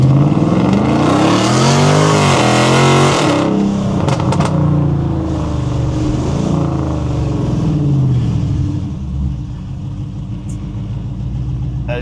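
A cammed Dodge Challenger R/T launches hard in sport mode with traction control off, its engine roaring loud and close through rising gear sweeps, then easing back to a rumbling idle with no talk.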